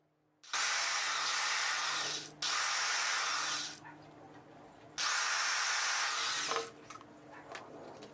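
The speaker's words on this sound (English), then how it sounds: "I decide to drill more holes. I end up drill 4 holes" A power drill whirs loudly in several long bursts, drilling holes through chopsticks, pausing briefly between them, with faint clicks and rattles as it slows.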